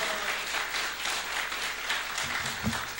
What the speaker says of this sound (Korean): 우리 박수와 함성으로 환영합니다.